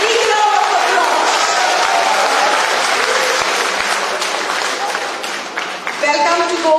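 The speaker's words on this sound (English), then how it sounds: "A big round of applause" A crowd at a political meeting in Cortalim, Goa breaks into loud, sustained applause with some cheering, dense clapping that dips briefly near the end before surging again, with voices mixed in.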